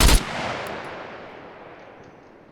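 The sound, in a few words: gunfire from a rifle in the video game SCUM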